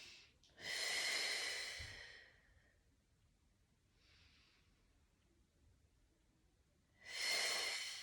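A person doing a floor exercise takes two close, audible breaths with a faint soft breath between them, in an otherwise quiet room.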